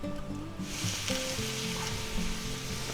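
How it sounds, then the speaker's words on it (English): Shrimp are tipped back into a garlic and vegetable stir-fry with their juices, and a loud, steady sizzle swells up and holds, with faint background music underneath. "now we're going to take our shrimp and we're going to dump them back in there"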